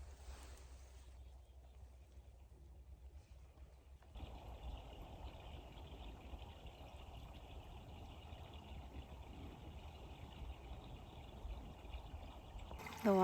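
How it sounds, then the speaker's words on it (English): Outdoor stream flowing gently, a faint, steady trickling and rushing of water that swells slightly after a few seconds and continues without pause, distant and quiet. "You can hear the stream."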